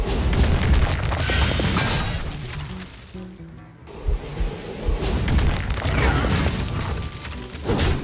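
Fire Blast hero power in the Hearthstone card game, heard as loud, dense booming impacts and crashing game effects, with a brief dip before the blasts and rumbles resume, with no talking.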